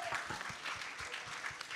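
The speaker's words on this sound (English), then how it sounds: "Let's give a big round of applause to them." Audience applause at a campaign launch event, a faint but steady patter of clapping heard from a distance, with a little murmur underneath.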